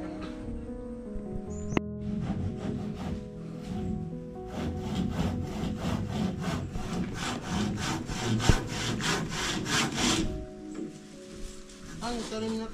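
A hand saw cuts through wood in rapid, rhythmic back-and-forth strokes, close and loud, with voices talking in the background.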